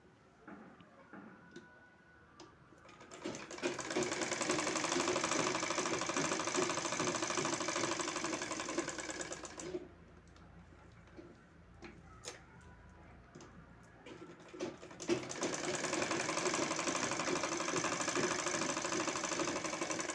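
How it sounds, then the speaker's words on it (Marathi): A sewing machine stitches cloth for a drawstring pouch margin, running in two steady, fairly loud bursts of several seconds each separated by a quieter pause with small clicks and handling noises. "याला अजून दोन इंचावर शिलाई करून घ्यायची आहे दोरी मार्जिनसाठी"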